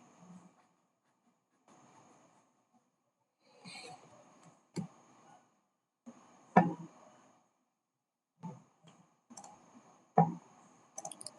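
Mouse clicks in an Azure Migrate computer interface: a few sharp, isolated clicks spaced several seconds apart, with faint background noise between them and no talking.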